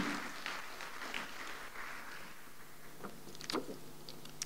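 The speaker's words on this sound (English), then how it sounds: "So a big round of applause for all of the women who are here tonight." An audience at a tech event applauds, a dense patter of many hands clapping steadily at moderate distance, slightly fading then briefly swelling again.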